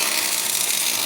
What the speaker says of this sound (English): He's welding up the brackets that he made now.